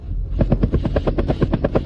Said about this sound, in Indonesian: Helikopter, yang bisa terbang di atas Jiangzhou.